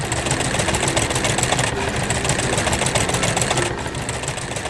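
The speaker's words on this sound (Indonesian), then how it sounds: "Traktor kuning berjalan sambil membawa hay." Yellow animated farm tractor carrying hay across a green farm, its engine running in a steady, dense drone with constant mechanical vibration and no pauses.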